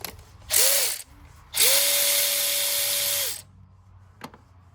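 A ratchet loosens a 12 mm bolt on the intake of a 2008 Nissan Murano, sounding as two loud whirring bursts, a short one then a longer one, followed by quiet and a single sharp click.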